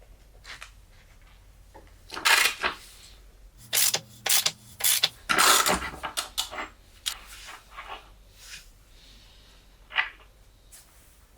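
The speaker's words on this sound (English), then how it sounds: "With the 34mm socket, we are undoing the main nut from the rear wheel." A socket ratchet with a 34mm socket works loose the rear wheel nut on a BMW S1000R motorcycle, giving close bursts of scraping, clicking and rasping with short pauses between strokes.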